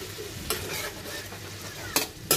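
Sea prawns fry in a hot pan with a steady, close sizzle, broken by a few sharp clinks and scrapes of a utensil stirring them; no talking.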